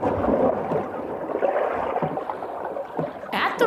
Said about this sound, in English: that noise you hear is keen scuba divers